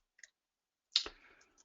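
Computer keyboard keys clicking during a webinar presentation: a faint tap, then a sharper double click about a second later, close and isolated with no talk.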